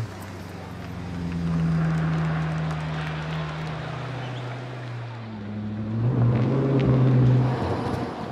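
Alfa Romeo 8C Competizione engine in Gran Turismo 5, a steady droning hum that swells slightly and holds, then climbs in pitch and loudness near the end, with a voice speaking faintly underneath.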